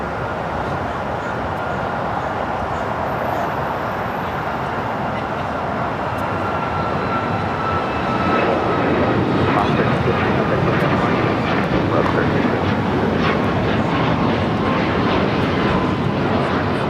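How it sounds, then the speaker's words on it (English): A JetBlue airliner arriving at LAX from Fort Lauderdale, Florida gives a continuous, fairly loud broadband jet roar with whining engine tones, steady throughout and rising slightly midway. "That JetBlue flight coming in from Fort Lauderdale"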